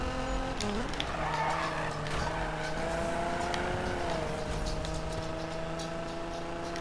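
A Nissan GT-R drifts in the Need for Speed game, its engine holding a steady high drone while tires squeal and skid continuously, with pitch shifts as the car slides, loud and close throughout.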